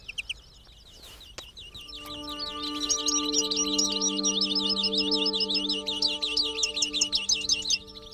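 Decoy birds used in songbird trapping at Matalascañas sing together in fast, bright, repeated trills and chirps, close and clear over a steady droning hum.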